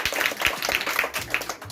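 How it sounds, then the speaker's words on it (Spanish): Congregation applauding at a Saturday Sabbath church service in San José Cureñas, Morazán, El Salvador, a steady patter of many hands clapping at moderate loudness for nearly two seconds. "Aplauso para el hermano Javi"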